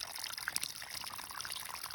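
Water pours from a PVC pipe onto a bed of rocks in a backyard garden, a steady, even splashing and trickling at moderate distance with no voices.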